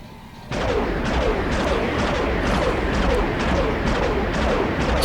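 Starship laser beams fire in the Star Wars Galaxies space combat game as a rapid, regular train of punchy blasts over a dense, continuous rumble, starting abruptly and staying loud throughout.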